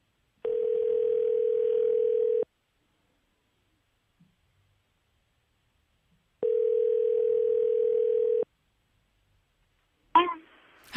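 A telephone dial tone sounds while a call is being placed, in two steady, identical tones of about two seconds each separated by silence, followed by a brief click-like noise at the end.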